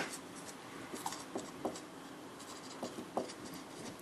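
A pen writes on paper during a math lesson, its tip scratching out short strokes in quick bursts with brief pauses, close and fairly quiet.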